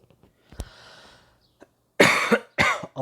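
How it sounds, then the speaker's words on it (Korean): Two loud, harsh coughs close to the mic, each a raspy burst with a short tail, following a few faint clicks and a quiet breath. "심장이 아파서 기침도 오네."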